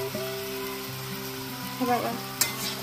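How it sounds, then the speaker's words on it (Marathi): Pasta sizzling and frying in a hot pan with chilli over a full flame, a steady crackle with a brief stirring scrape, while someone speaks a short word over it. "पास्ता आपलं टाकून देते आणि याला चांगलं फ्राय करून घ्यायचं।"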